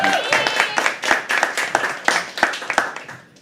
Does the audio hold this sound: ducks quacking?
no